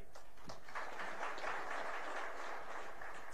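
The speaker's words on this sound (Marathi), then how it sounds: "17 टाळ्या वाजल्या, 17." An audience at a gathering about honouring entrepreneurs claps in a steady, dense burst of applause lasting a few seconds, fairly even and somewhat distant, with no voices over it.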